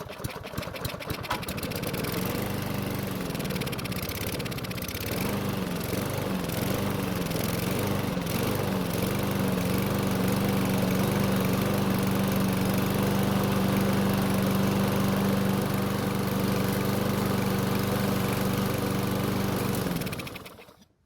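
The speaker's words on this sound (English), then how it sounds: "So the engine struggled to start and run, but it cleaned up after a few seconds and it seemed to be running just fine." A Lawn Boy mower engine sputters and stumbles unevenly as it struggles to catch, then settles into a steady, loud droning run for about fifteen seconds before cutting off abruptly.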